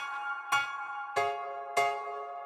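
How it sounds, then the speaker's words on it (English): Pro Tools Mini-Grand software piano on its Real model plays four evenly spaced chords, each a bright struck attack that rings and decays cleanly, with no other sound present. "the next sound we got is the Mini-Grand"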